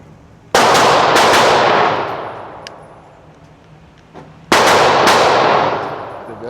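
Two loud, close gunshots from a Glock 31 Gen4 pistol at a shooting range, each a sharp crack followed by a long echoing decay, spaced about four seconds apart.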